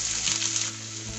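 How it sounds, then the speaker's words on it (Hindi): Onion frying on high flame in oil with cumin and asafoetida, a brief, close, even sizzle. "प्याज हमारी भुन चुकी है"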